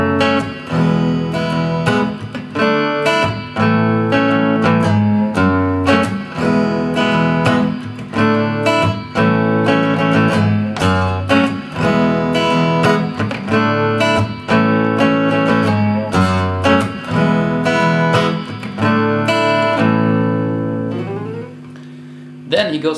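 Electric guitar playing the "LA C" riff sequence, a busy repeated phrase with a slight string bend, looped several times at close, loud level before fading out near the end.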